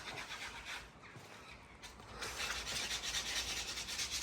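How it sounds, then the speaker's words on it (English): Edges of a driveway drop barrier being sanded by hand, a close, continuous dry rubbing and rasping scrape that grows louder and steadier toward the end. "sanding the edges"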